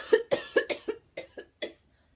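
A coughing fit during a breathing exercise: about seven sharp, close coughs in quick bursts, the first four tightly bunched and the rest spaced out, then quiet.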